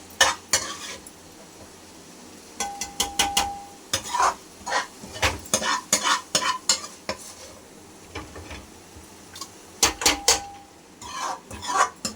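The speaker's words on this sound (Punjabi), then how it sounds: "ਹੁਣ ਅਸੀਂ ਤੜਕਾ ਸਾਡਾ ਭੁੱਜ ਗਿਆ ਹੈ ਅਸੀਂ ਦਾਲ ਵਿੱਚ ਪਾਵਾਂਗੇ" Fried tadka is stirred and poured into bottle gourd dal, with soft sizzling, repeated metal spoon clinks and scrapes against the pot, and a few short utensil taps scattered across the clip.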